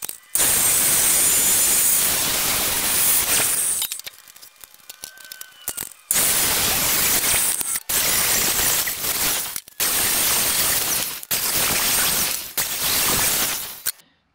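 Ends of steel square tubing are cleaned up and chamfered with a grinder, giving loud, harsh, continuous grinding in several bursts separated by short pauses.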